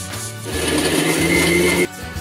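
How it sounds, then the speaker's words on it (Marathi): A kitchen mixer grinder whirs through a roasted spice paste for shev bhaji in one loud, close burst of high motor whine lasting just over a second, which cuts off abruptly. "हे वाटण आपल्याला मिक्सरमध्ये वाटून घ्यायचं आहे."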